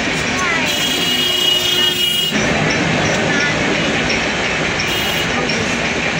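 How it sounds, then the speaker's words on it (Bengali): The Rajdhani Express passes a level crossing close by, a loud continuous roar of carriages with wheel squeal and clattering, steady and unbroken from start to finish. "রাজধানী এক্সপ্রেস, রাজধানীর মতোই যাচ্ছে।"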